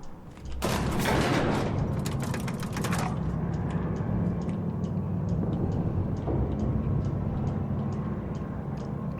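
Rapid bursts of gunfire in The Outer Worlds, a dense clatter of shots for about two seconds near the start, then sporadic faint clicks over a steady ambient bed.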